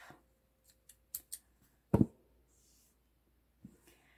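Scissors snip through crochet yarn near a granny square bag for kids, a few small clicks followed by one sharper, louder cut, then quiet handling, close and soft.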